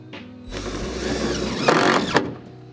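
Screws are driven in with a powered driver while installing a window blind pod on a van, producing a short whirring, ratcheting run that rises in loudness and ends with a sharp click.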